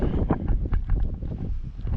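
Steady gusting wind buffets the microphone, a continuous low rumble with rustling fluctuations and no talking.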